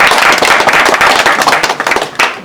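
At a pigeon tournament prize distribution, a crowd claps loudly and continuously in a dense, close burst of hand claps with no clear talk.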